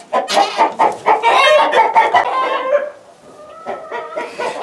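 Chickens in a farm coop cluck and squawk loudly and close by, in a busy, overlapping burst that quiets for a moment and then resumes with softer clucks.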